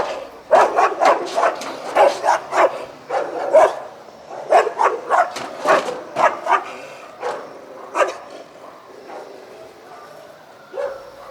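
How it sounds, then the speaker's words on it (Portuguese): Two street dogs in Jardim Melilo bark repeatedly in rapid bursts, close and loud, with a few yips mixed in before the barking thins out. "Estes são George e Paçoca, dois cães comunitários que vivem juntos nas ruas do Jardim Melilo"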